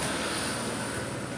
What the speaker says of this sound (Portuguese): vocês estão ouvindo barulho de helicóptero porque acabou de passar um aqui